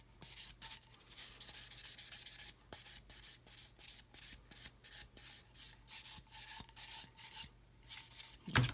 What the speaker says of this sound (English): Just polishing the front of that pylon as well.